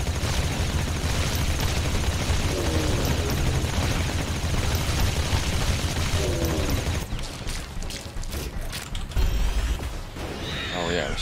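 Video game gunfire in Riftbreaker, rapid bursts of weapons shooting amid loud dense action noise, with the battle mix shifting partway through.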